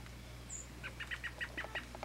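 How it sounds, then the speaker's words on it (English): Robins fluttering in a tree while eating berries, heard faintly at a distance as a short run of soft chirps over a low steady hum. "And the other robins fluttering, eating the berries out of this tree."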